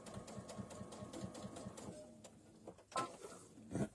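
A sewing machine stitching quilt-as-you-go blocks, running in a fast, even rhythmic chatter for about two seconds, then stopping, followed by a few isolated clunks and handling sounds, close up with no speech.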